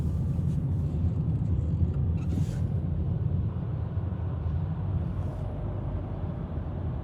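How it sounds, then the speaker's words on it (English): Los Angeles road traffic heard from inside a car as a steady, moderately loud low rumble of engine and tyre noise with no talking. "take a look at all the LA traffic."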